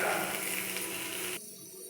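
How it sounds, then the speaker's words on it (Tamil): Tomatoes added to a hot pan of sautéed onion, ginger and curry leaves for a roasted gram chutney give a steady close sizzle that cuts off abruptly near the end. "இப்போ தக்காளியை போட்டுடலாம்."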